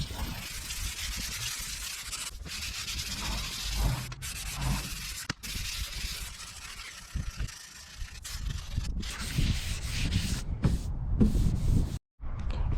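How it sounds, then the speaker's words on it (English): Hand sanding of paint on a BMW E90 before priming, a continuous scratchy rasp of strokes rubbing back and forth close by. There are brief pauses and one short stop near the end. "More sanding, yeah!"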